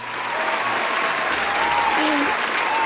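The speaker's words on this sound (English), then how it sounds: "Tima, give him a round of applause." Sustained applause from an audience fills the whole moment, dense and steady, with a faint voice briefly audible underneath.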